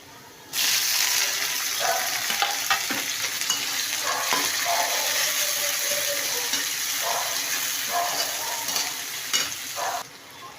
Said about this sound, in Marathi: आता याच्यामध्ये मी टोमॅटो घालून घेते।